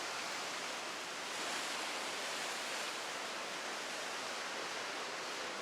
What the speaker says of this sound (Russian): какая волна идет.